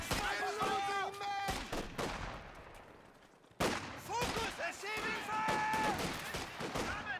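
Machine gun fire and other battle sounds in the Company of Heroes 2 World War II strategy game, sounding as dense bursts of gunfire with a short drop in the middle, and a voice commentating over the top.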